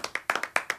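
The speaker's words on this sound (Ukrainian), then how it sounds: "Оплески." A handful of sharp, close hand claps in quick uneven succession on a satirical news show, brief and distinct.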